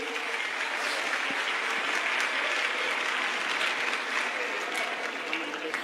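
An audience at a Hindu religious conference gives steady, loud applause to welcome a chief editor onto the stage, a dense continuous clapping that lasts throughout with no clear voices over it.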